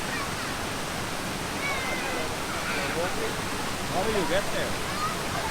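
Waterfall in the Philippines, a constant broad rushing roar of falling water filling the scene, with people talking faintly over it.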